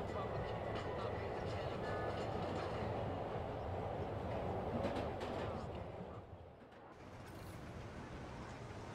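A subway train rumbles along in Marvel's Spider-Man game set in New York, a loud continuous roar with faint rhythmic clatter, easing briefly near the end, with voices mixed in.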